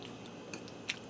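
Soft, close chewing of a mouthful of skillet southwest spaghetti with tender ground beef, cheese and chili powder, quiet squishy bites with a couple of faint crunchy clicks over a low steady background hiss.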